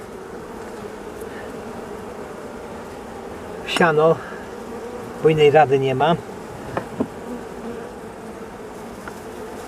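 A steady buzz of honeybees around an open hive hums throughout, with someone speaking briefly over it in two short bursts.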